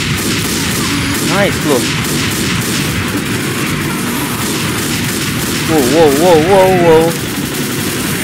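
Sniper rifle gunfire in Left 4 Dead 1, sharp shots ringing out over game noise while a player talks and exclaims in between.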